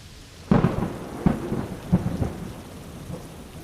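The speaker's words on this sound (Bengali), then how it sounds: "বৃষ্টির তোড় বেড়ে উঠল" Heavy rain pours steadily while thunder cracks sharply three times in quick succession, then rumbles on under the downpour, loud and close with no voices.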